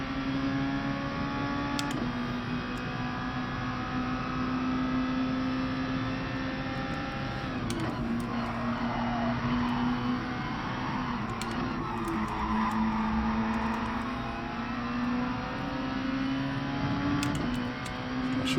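A racing car in Gran Turismo Sport, its engine droning steadily with a whining pitch that rises and falls as the wheels spin, continuous and close, with no talking.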